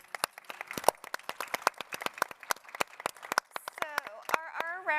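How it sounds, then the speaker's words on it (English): Audience at a roundtable on health and nutrition clapping, a sparse run of distinct close claps that thickens, with voices talking over the end. "Give them a round of applause, please."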